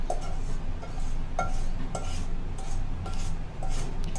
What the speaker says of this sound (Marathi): हे पूर्ण रवा पूर्ण सगळा बाऊलमध्ये काढते